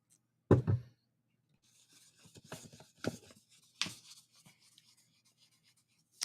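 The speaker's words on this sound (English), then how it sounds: "We just took them out of the plastic, shuffle them up" A deck of brand-new playing cards just out of the plastic is shuffled: a sharp riffle burst near the start, then scattered softer riffles, slides and taps close by in a quiet room.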